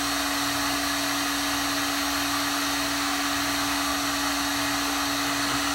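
Electric heat gun drawing about 12 amps, blowing a steady loud broadband whoosh with a constant motor hum underneath, unbroken and close, with no talk.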